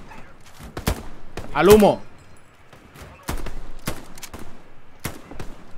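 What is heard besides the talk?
Browning machine gun firing in Hell Let Loose video game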